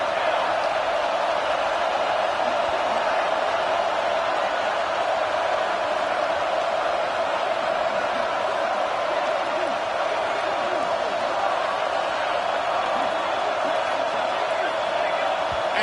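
Steady roar of a stadium crowd at a football game, a dense continuous wash of noise that stays loud and even throughout.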